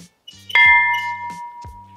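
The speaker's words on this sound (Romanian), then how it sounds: "trebuie să-i pun să dea din clopot pentru noroc" A bell at the Calafat river station is struck once, giving a bright metallic clang with a long ringing sustain that slowly fades, with light handling noise and soft steps around it.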